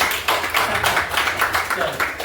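A group clapping at a weekly business meeting at an Ayurvedic centre: quick, rhythmic claps close together, loud and steady throughout, with a voice speaking underneath.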